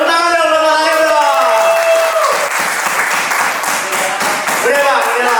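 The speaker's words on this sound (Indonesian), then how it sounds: "Tepuk tangan dong, tepuk tangan dong." A stand-up comedy show audience bursts into loud, sustained applause and cheering that fills the room for several seconds, with a voice heard over the clapping.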